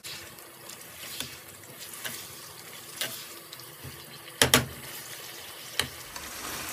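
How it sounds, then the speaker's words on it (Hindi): Onions and beans sizzle and hiss steadily in a pan while being stir-fried. Sharp clatters of a spatula or spoon against the pan break in at intervals, with a louder burst of scraping near the middle. "इन सब चीज़ों को डाल के हम थोड़ा सा भून लेंगे।"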